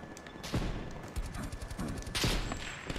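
Gunfire in a first-person shooter video game, with several sharp shots and bursts spread across the moment, including a heavy blast that fits a shotgun, over a busy background of game noise.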